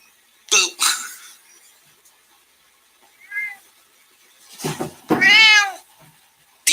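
A cat being played with lets out several meows and chirps in short bursts, the last one long and drawn out, loud and close with quiet gaps between.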